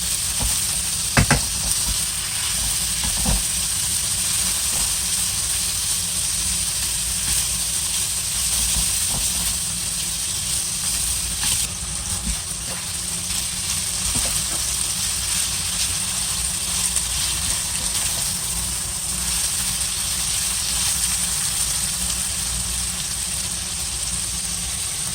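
Beef frying in a pan as the base for a tomato spaghetti sauce: a steady, even sizzling hiss that holds for the whole stretch, with a few faint clinks and no speech.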